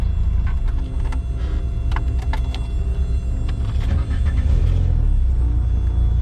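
A Nissan 240SX engine cranks and fires up without the clutch pushed, settling into a loud, rumbling idle close by.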